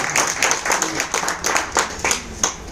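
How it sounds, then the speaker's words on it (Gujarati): A small audience claps in quick, uneven bursts for Joshnaben at a product-income meeting, a short run of close hand claps with no voices over it. "જોશનાબેન માટે જોરદાર તાળી થઈ"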